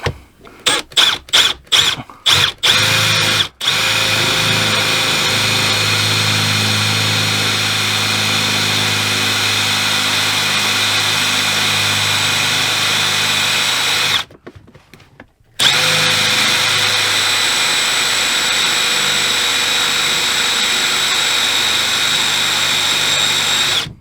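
A power drill whines steadily, boring a hole into a metal bracket after a few short trigger bursts, with a brief pause near the end before drilling resumes, loud and close.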